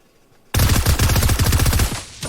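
Rapid burst of close gunfire from a short-range weapon in Fortnite, a dense run of repeated shots starting abruptly and lasting nearly two seconds, loud with no talk.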